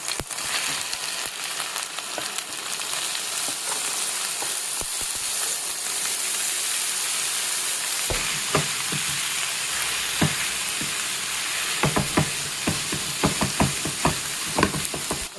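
Cauliflower florets and potatoes fry with ginger-garlic paste in a pan, giving a dense, close sizzle; sharp clacks and scrapes of stirring come in during the second half, with no one speaking.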